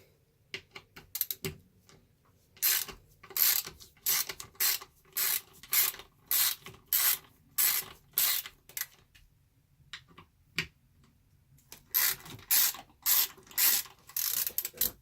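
Ratcheting wrench loosening bolts on a Losi 5T 1/5 scale RC car, a quick run of clicking bursts repeated in a steady rhythm with brief pauses, close and clear with no talking.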